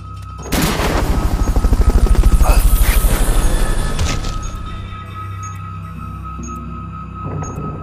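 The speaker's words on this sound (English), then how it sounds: "Fulton recovery helicopter is complete." In Metal Gear Solid: Peace Walker HD, a loud Fulton recovery helicopter rotor thumps rapidly and swells, then fades away, leaving a steady electronic hum with occasional faint beeps.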